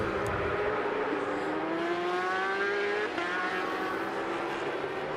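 A Stock 1000 racing motorcycle sweeps past during a MotoAmerica race at Alabama, its loud high engine whine rising and falling in pitch over a continuous roar.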